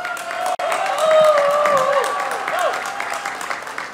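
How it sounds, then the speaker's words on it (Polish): Audience applauding at the opening of a blues festival, a fairly soft spread of clapping beneath a voice and sustained musical tones, swelling slightly and then easing off. "zróbcie wielki hałas, wielkie brawa dla Henia"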